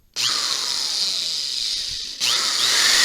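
A power drill starts abruptly and runs with a high whine, then surges louder as it cuts into a fiberglass pole, close by and without speech.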